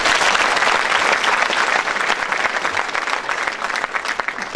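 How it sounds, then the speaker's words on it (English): Students in an auditorium applaud, a thick continuous burst of clapping from a large group, loud at first and thinning slightly into more distinct individual claps toward the end, with no speech. "I think all of you please clap for Dr. Deepa"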